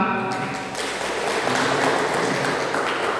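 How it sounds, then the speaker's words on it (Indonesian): Audience clapping in a classroom-style session, a dense wash of applause that builds after a brief quieter start and continues evenly to the end, with voices mixed in. "boleh tepuk tangan untuk Azhar"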